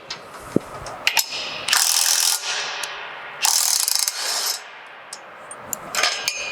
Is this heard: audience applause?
no